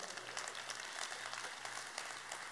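A church congregation claps during a Spanish-language sermon, with faint, steady applause continuing evenly throughout amid room hum.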